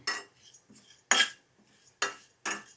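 A metal spatula scrapes and knocks against a ridged pan while food is stir-fried for dosa, producing four or five sharp, loud scraping strokes separated by short quiet gaps with only faint sizzling between them.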